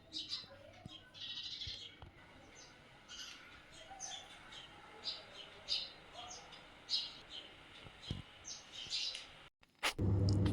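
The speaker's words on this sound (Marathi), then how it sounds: "चिमण्यांचा असा चिवचिवाट बघितल्यावर छान वाटलं" Sparrows chirp in quick, busy bursts against a soft background hum, the calls repeating irregularly at moderate distance.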